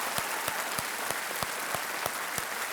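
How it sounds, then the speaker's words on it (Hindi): A studio audience on the Hindi quiz show Kaun Banega Crorepati claps in unison, a dense applause wash punctuated by regular rhythmic beats roughly every third of a second, steady and moderately loud. "एक बार फिर हम तालियों के साथ आपका स्वागत करते हैं"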